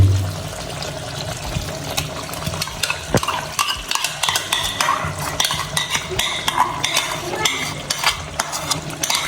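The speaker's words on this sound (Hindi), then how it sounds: "अभी हम इसमें ऐड करेंगे 200 ग्राम कुकिंग क्रीम" Cooking cream being added and stirred into a pan of Hyderabadi green chicken karahi, with steady scraping and stirring clatter and a soft wet sizzle, close and continuous, no talking.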